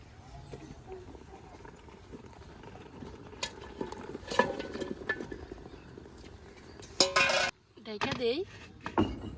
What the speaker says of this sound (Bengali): এটাকে নাড়া দিয়ে নিই এখন আবার ভাত বাকিটুকু দিয়ে দিই